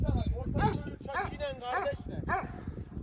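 Several sharp barks and yips from a dog nearby, uneven in rhythm, mixed with people talking.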